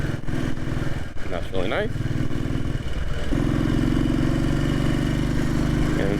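A practically new Royal Enfield Bullet 500 single-cylinder motorcycle thumps steadily while being ridden, its engine note loud and continuous beneath a voice, pulling smoothly on torque with a slight rise in intensity midway.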